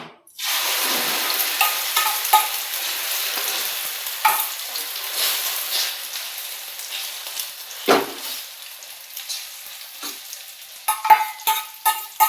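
Vegetables cooking in oil on a tawa over very low heat for bread pizza, a steady close sizzle that starts abruptly, with occasional spatula scrapes and clacks, busier toward the end.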